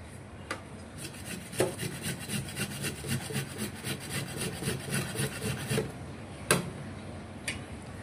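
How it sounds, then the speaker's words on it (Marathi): Whole cabbage rubbed over a hand grater in a home kitchen, a steady run of rasping, scraping strokes close to the microphone with a few sharper knocks, no talking. "पूर्ण पत्ताकोबी खिसून घेते मी अगोदर"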